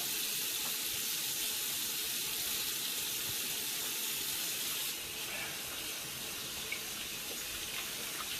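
Hands being washed with soap under a running faucet, a steady close water rush and hiss from the tap filling the whole stretch, with a slight change in the flow partway through.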